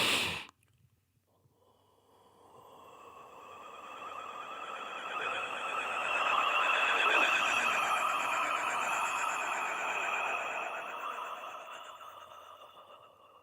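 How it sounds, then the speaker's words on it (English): A voice performs an overtone breath vocal technique with a warbling effect, a breathy sustained tone that swells slowly after a brief sharp intake and wavers steadily at a moderate, intimate level. "And there's a warbling effect that sits at the center of the vocal technique and sound experience of it."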